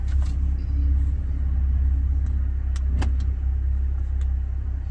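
A new car launches hard from a standstill using launch control, a loud, close engine rumble holding steady and low throughout with a few brief higher-pitched sounds near the middle.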